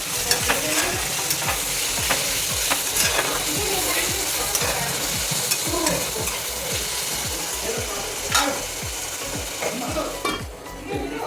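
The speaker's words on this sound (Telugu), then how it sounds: "కొంచెం సాల్ట్ కొంచెం పసుపు ఇవి రెండు వేసుకొని ఒకసారి మిక్స్ చేసి మూత పెడదామండి" Prawns with salt and turmeric stirred in a hot pan make a busy, continuous sizzle broken by rapid, rhythmic scraping strokes of the spoon. The sound is close and steady, with no talking.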